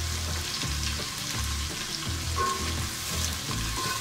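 Ginger garlic paste fries with browned onions in a pan, giving a steady close sizzle broken by rhythmic stirring scrapes.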